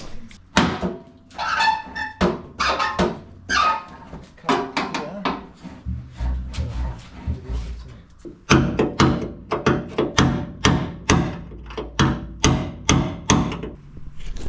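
Repeated hammer blows knock out welds on a Ford XY Falcon radiator support panel during a car restoration, sharp metallic strikes in irregular bursts, close and loud, with a few dull thunks between.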